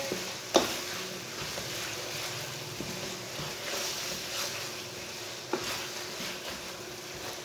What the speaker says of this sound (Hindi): दाल को भी मैंने 1 मिनट तक भून लिया।